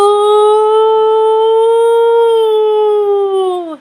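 A long, loud, sustained howling roar from a Sasquatch, steady and harmonic-rich, holding level for several seconds before sliding down and cutting off.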